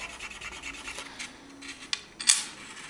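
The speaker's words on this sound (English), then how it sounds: "we scratch it on the stone like this" A piece of 14k scrap gold jewelry is rubbed across an acid test stone, giving soft close scraping strokes that end in a couple of sharper scratches.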